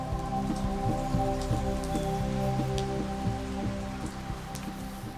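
Heavy rain pours down steadily on a chimpanzee sanctuary, a dense patter of drops drumming on surfaces, with a low constant rumble underneath.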